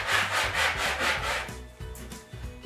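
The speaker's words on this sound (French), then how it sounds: "j'ai poncé mes deux poussoirs" Two wooden safety push sticks are sanded by hand, with close, rhythmic rasping strokes that repeat about four times before giving way to softer, irregular rubbing and handling.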